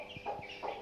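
A chicken gives a couple of short, quick clucks close by, brief and fairly quiet.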